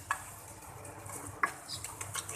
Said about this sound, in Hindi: अब इसकी मिक्सिंग करेंगे